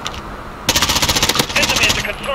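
Gunfire from a shotgun in Call of Duty: after a brief quiet moment, a loud, fast run of sharp shots erupts and continues in a dense, rattling string to the end.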